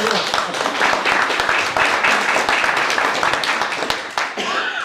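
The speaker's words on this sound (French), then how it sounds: "Bravo, on peut l'applaudir." Audience applause at a youth, sports and community engagement medal ceremony, dense close clapping from a hall full of people, loud and sustained with faint voices mixed in.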